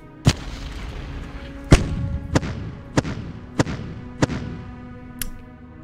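Artillery fire in the war strategy game Decisive Campaigns: Ardennes Offensive, about seven sharp booming shots at irregular intervals, each trailing a short rumble over a steady low background.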